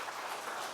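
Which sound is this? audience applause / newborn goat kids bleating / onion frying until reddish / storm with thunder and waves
audience applause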